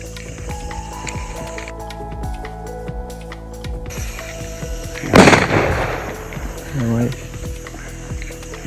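A firecracker is set off at night near a farm hut to drive off approaching wild elephants: one sudden loud bang in mid-clip with a ragged, decaying rumble, over steady background noise and faint voices.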